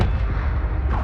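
Levioso levitation spell cast in the Hogwarts Legacy video game, a dense, booming magical burst with a rumbling low end that fills the whole second, loud and close with no talking.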